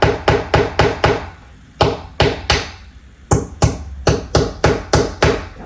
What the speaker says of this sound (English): I'm gonna make an indentation with this small nail